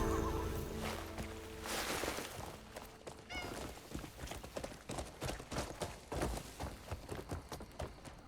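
A horse whinnies in the Crimson Desert video game, a loud neigh rising over steady clip-clopping hooves and background game ambience, with no talk.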